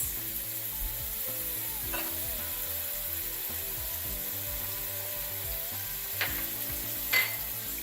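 Chopped onions sizzle in a hot pan for pasta fagioli, a steady close frying hiss with a few soft clicks and scrapes from stirring and no voices.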